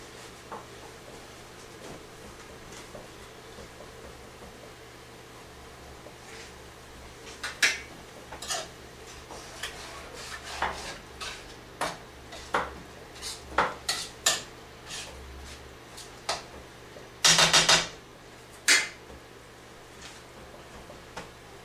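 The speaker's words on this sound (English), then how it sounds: "And then just go ahead and start chopping them up a little bit." Knife chopping ingredients for Cajun rice and gravy on a cutting board, starting sparse then a run of sharp irregular taps, with a louder clatter of utensils or a pot near the end.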